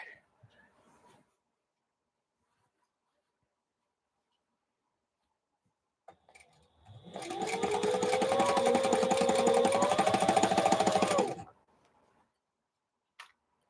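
A sewing machine stitching curtain panels together for a large DIY curtain runs in a steady whirring burst of about four seconds, close and clear, preceded and followed by quiet handling and brief silence.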